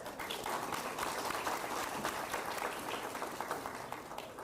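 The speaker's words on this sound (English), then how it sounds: "Let's give her a round of applause." Audience applause at an Edgewood ISD school district meeting, many hands clapping in a sustained, even burst that holds steady and begins to taper near the end.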